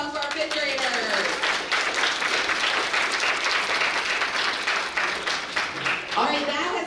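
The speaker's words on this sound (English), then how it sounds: "round of applause for our 5th graders" An audience at an elementary school geography bee applauds for 5th graders, sustained even clapping from a sizeable crowd lasting several seconds, with faint voices mixed in at the start and end.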